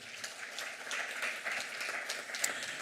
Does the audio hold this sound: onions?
no